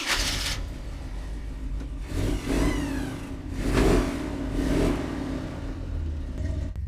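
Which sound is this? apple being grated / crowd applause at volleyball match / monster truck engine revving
monster truck engine revving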